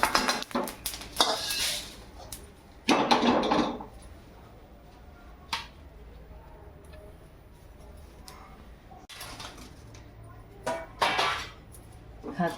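Whole spices, including bay leaves, dry-roast in a pan for homemade Agri Koli masala, giving intermittent scraping and clinking stirs against the metal with brief pauses in between.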